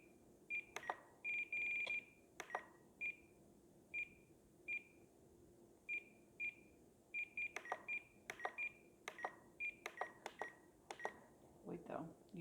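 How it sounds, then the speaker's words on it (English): Repeated short electronic beeps from a radio transmitter's timer in irregular bursts, some quick double and triple pips, with faint talking and handling noises underneath. "I only want it to beep when it starts and when it stops."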